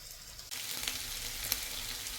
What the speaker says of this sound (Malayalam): നല്ല ഉപ്പും കുരുമുളകും മഞ്ഞളും മുളക് പൊടിയൊക്കെ ഇട്ടിട്ട് നല്ല കരികരാ വറുത്തെടുക്കാമെന്ന് വിചാരിച്ചേട്ടോ